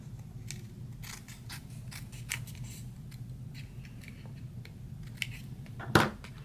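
Paper cut with scissors in a craft setting, a series of quiet, crisp snips at irregular intervals over a low steady background hum, ending in a louder sharp snip.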